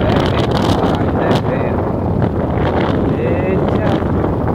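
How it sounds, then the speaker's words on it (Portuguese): Strong coastal wind buffets the microphone at a beach point, a constant loud roaring rumble throughout, with someone talking over it. "Agora tem muito vento,"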